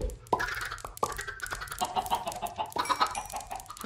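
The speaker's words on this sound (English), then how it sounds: "Just feed this little chicken." Chickens in the Minecraft video game cluck in a busy run of short, clipped calls, fairly loud and close, with no voices on top.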